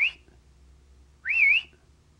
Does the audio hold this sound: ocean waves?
no